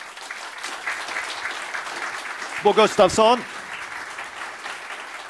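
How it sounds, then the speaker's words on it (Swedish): A seminar audience gives a warm round of applause for the speaker, a steady wash of many hands clapping throughout, with a voice briefly speaking over it midway. "Jag tycker att vi ger Bo Gustafsson en varm applåd."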